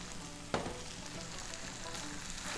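Spicy Korean stir-fried pork (jaeyuk bokkeum) simmering in its sauce over low heat gives a steady, close sizzle, broken by one sharp clatter early on.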